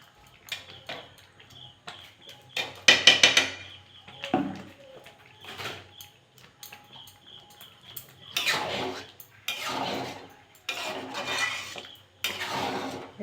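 A utensil stirs khichuri with ghee in a cooking pot, producing intermittent metallic scrapes and clinks in short bursts at close range, with quiet gaps and bird coos faintly in the background.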